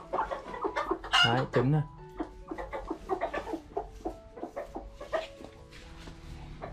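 A brooding mother hen sitting on eggs clucks in a run of close, repeated calls with occasional louder squawks, while a person talks nearby.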